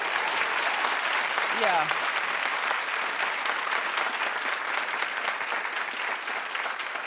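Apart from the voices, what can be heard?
studio audience applause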